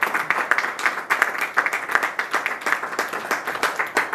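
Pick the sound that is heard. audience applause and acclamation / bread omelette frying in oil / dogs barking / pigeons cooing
audience applause and acclamation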